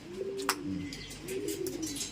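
A pigeon coos softly nearby, low rolling calls repeating twice, with faint background noise and a small click.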